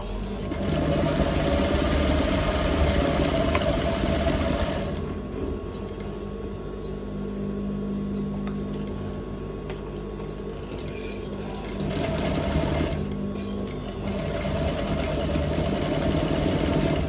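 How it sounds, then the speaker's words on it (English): A sewing machine stitches an elastic waistband, running in a steady mechanical whir for several seconds, pausing briefly, then starting up again near the close. "So I'm going to sew this."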